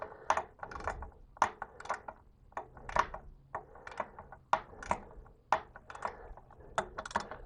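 A ratchet tightens the sight glass mount on a La Pavoni espresso machine, with short bursts of quick clicking in small repeated strokes, close and fairly faint.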